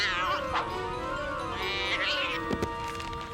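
A cartoon cat lets out a drawn-out, wavering meow over a busy soundtrack, its pitched voice bending up and down for a few seconds before a brief sharp hit near the end.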